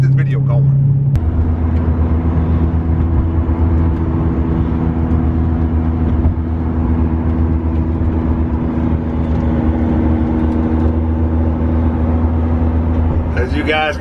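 A Ford GT sports car's engine drones steadily from inside the cabin while driving, a loud continuous low rumble with a sharp onset near the start and a brief sound change at the end.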